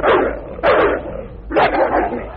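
A dog barks and growls in a horror story sound effect, three loud, close, harsh barks spaced about a second apart with rough snarling between them, no speech.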